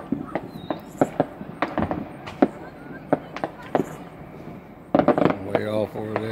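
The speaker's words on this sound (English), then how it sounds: "some of these fireworks just fell over and shot over the place" Fireworks crackle and pop in a scattered series of sharp bangs, some near and some farther off, with people talking over them near the end.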